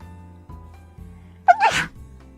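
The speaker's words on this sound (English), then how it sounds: "Oh no, I have to sneeze." A single loud, sudden human sneeze bursts out after a moment of quiet low background sound, with a sharp intake followed by a short explosive release.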